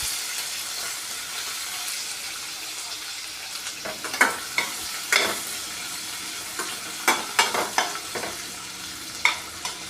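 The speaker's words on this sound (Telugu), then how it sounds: "ఇవి బ్రౌన్ కలర్ వచ్చేంత వరకు వేయించుకోవాలండి" Chopped onions fry in oil in a pan, a low, continuous sizzle broken by several scraping stirs and clinks of a spoon against the pan, close and moderately quiet.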